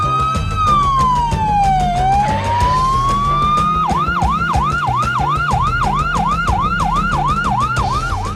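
Loud ambulance siren, first a slow rising and falling wail, then a rapid repeating yelp, steady and close over engine hum. It belongs to a hospital ambulance carrying a patient.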